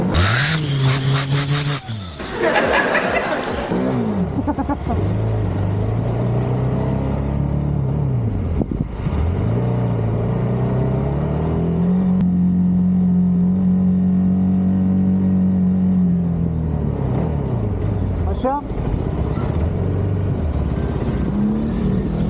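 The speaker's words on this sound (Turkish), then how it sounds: "Abi ara gaz ver abi." A CFMOTO 250SR motorcycle engine revs up and down outdoors, loud and close, with several throttle blips and a sustained high rev held for a few seconds.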